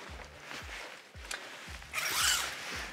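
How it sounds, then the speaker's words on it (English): A zipper on the standard insect screen of a 2023 Ibex 10LHG toy hauler is opened, several quick close rasping pulls in a row, then a longer brighter zip near the end, with no talking. "this insect screen comes standard. It zips right up the middle for easy exit and entry."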